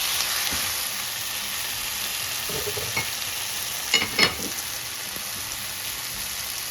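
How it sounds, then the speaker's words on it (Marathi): Onion and tomatoes frying in a pan for tomato pithla make a steady hiss throughout. A few soft stirring clatters sound near the middle, and no one speaks. "आता कांदा लाल झाला, त्याच्यात टमाटे टाकते. टमाटे सुद्धा थोडा शिजून घ्यायचा."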